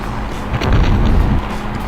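Missile striking an enemy car in the vehicular combat game Interstate '76, a loud close boom with a low rumbling burst that swells for about half a second and then settles back to engine noise.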